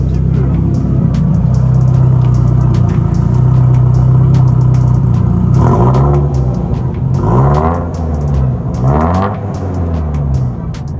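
A Nissan 200SX S13 with a 3-inch exhaust idles loudly, then gives three quick revving blips that rise and fall, close by and echoing in an underground car park, with some talk in the background.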